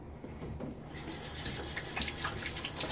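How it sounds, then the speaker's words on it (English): Leftover bloom water pours out of a shaving soap bowl, a steady close splashing trickle that runs continuously for a few seconds with no one talking. "Pouring the rest of the bloom water out."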